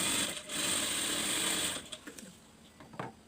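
A sewing machine stitches small tucks into a blouse, running in a steady, close whir for nearly two seconds before slowing and stopping, followed by a few soft clicks and handling sounds.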